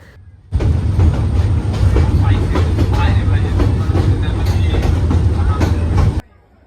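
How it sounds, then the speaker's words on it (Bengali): The shuttle train between Chittagong city and Chittagong University, Bangladesh, rumbles along loudly with a deep steady roar and rhythmic rail clatter, starting and stopping abruptly. "লেজেন্ডারি শাটল ট্রেন যেটার কথা অনেক শুনেছি কিন্তু কখনো ওঠা হয় নাই এবার উঠলাম এটাতে করে"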